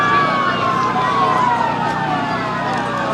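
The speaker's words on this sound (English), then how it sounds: "I hear the sirens coming down." Wailing sirens sweep up and down over a low rumble at a Christmas parade in Lockhart, fairly loud and continuous, as if emergency vehicles are passing nearby.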